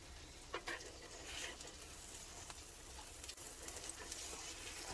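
Eggs frying in egg rings on a hot surface for a breakfast sandwich, a faint steady sizzle with a few light clicks and scrapes, no talking.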